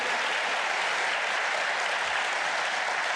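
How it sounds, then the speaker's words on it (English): Audience applause at PAX Australia for the Civilization VII developer team, a dense, steady clapping from a crowd that fills the whole stretch without talk. "So can we get another round of applause"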